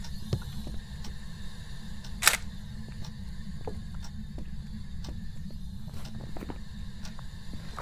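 A single sharp camera shutter click as a photo is taken in Phasmophobia, loud and brief against a low game ambience with occasional faint footsteps and knocks.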